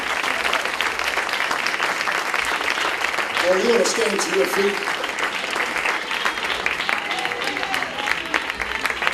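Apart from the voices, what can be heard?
congregation clapping hands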